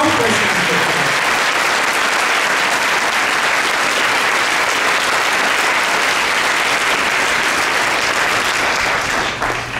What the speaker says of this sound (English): heartfelt applause for what we are accomplishing today